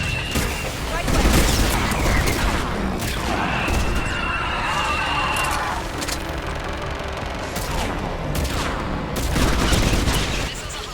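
Missile launches and sustained gunfire in the video game Mass Effect 3, with a continuous loud barrage of blasts and rattling shots filling the scene throughout.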